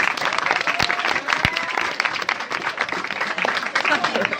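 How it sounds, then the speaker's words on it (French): Studio audience applauding and clapping steadily to welcome a school quiz team at a televised quiz match, the dense clatter of hands filling the room without pause. "on va les applaudir bien fort"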